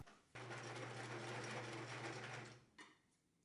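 A sewing machine stitches along the edge of a shirt placket to finish the end of its binding, running steadily for about two and a half seconds, then giving a brief second burst after a short pause.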